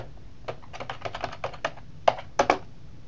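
Keys on a computer keyboard click in a quick, irregular run of close taps while text is typed into a word processor, with no voices.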